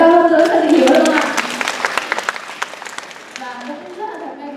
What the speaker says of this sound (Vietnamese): một tràng pháo tay nữa cho các thầy cô của trường Đại học Thăng Long